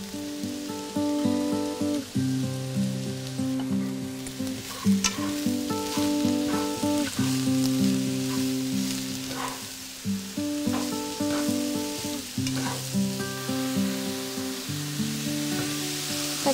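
Mushrooms sautéing with golden shallots and butter in a pan for a vegetarian pho, a steady close sizzle and crackle with occasional stirring scrapes, continuous throughout with no talking.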